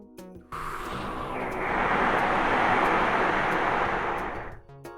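Breathy rush of air blown through a trombone without a pitched note, a steady hiss swelling slightly and then tapering off after a few seconds.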